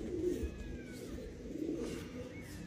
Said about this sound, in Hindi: दूसरा कबूतर आए